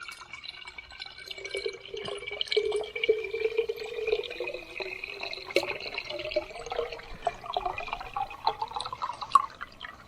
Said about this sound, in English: time how long it takes to fill a quart jar